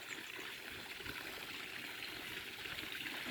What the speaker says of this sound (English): you can still see that there's a bit of a waterfall happening here.